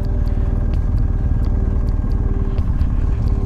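A 2021 BMW R1250 GS motorcycle under way, its boxer engine giving a steady loud drone with road and wind rumble throughout and faint ticking clatter.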